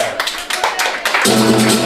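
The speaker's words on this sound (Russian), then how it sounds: "Бурные аплодисменты, живой вокал." A burst of enthusiastic clapping from a crowd, with a sustained musical tone rising beneath it partway through.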